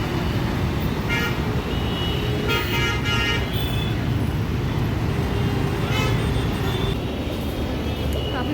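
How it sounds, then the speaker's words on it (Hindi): Busy Delhi road traffic, with a steady roar of cars, buses and trucks and repeated car horn toots sounding through it. A faint voice can be heard under the noise. "और ट्रैफिक दिखाऊंगा आपको।"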